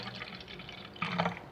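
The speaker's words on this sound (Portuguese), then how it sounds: "Deixa eu derramar um pouquinho d'água." A little water is tipped out of a bowl of homemade slime, a faint, close trickle and splash that swells briefly near the end, with no talking.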